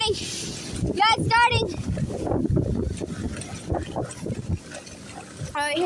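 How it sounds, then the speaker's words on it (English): Storm wind gusting hard outdoors, a dense, loud roar buffeting the microphone throughout, with people talking and exclaiming excitedly over it. "I can already feel the wind"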